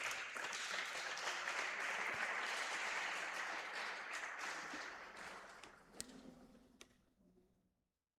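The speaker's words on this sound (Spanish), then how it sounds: "¿Cuántos le dicen amén al Señor y le dan un fuerte aplauso?" Church congregation applauding during a Spanish-language sermon, a dense burst of clapping from many hands that holds steady, then gradually thins and fades out to a few scattered claps and silence.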